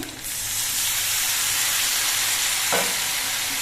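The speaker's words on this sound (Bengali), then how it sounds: "এবার মশলা দিয়ে আরও কিছুক্ষণ কষিয়ে নিতে হবে" Turmeric and cumin spice masala with a little water sizzles and fries steadily in a pan, a loud continuous hiss with a brief stir partway through and no talking.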